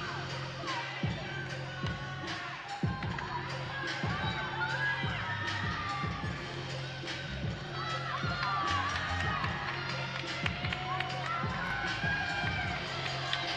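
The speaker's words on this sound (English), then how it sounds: "You see her teammates in the corner cheering her on" Gymnastics teammates cheer and shout from the corner of the arena during a Michigan at Maryland meet, a steady crowd roar with excited whoops and yells running throughout.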